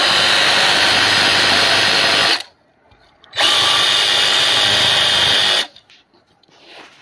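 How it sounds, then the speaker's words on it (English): A jigsaw cuts through a composite stair stringer, trimming along the layout line, in two loud sustained bursts of blade buzz with a short pause between and quiet at the end. "a lot of times these just break off, and then you just take a jigsaw"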